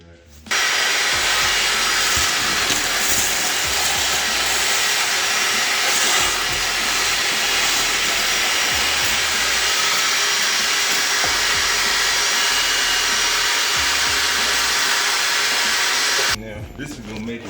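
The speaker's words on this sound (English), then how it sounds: "You might want to vacuum this out." A vacuum cleaner running inside the engine bay of a Honda CB7 Accord, with a loud, steady hissing whine that starts abruptly, holds for about sixteen seconds and then cuts off, heard close up.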